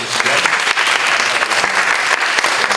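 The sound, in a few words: congregation applauding to welcome visitors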